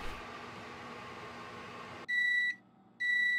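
A microwave oven beeps when done baking, giving two loud, clear electronic beeps close by after a stretch of steady hissing hum.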